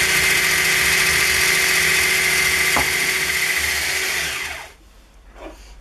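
An electric mixer beats lemon cupcake batter with oil in a steady, loud, close whir and then cuts off abruptly, leaving near silence.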